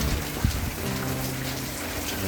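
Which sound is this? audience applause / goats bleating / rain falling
rain falling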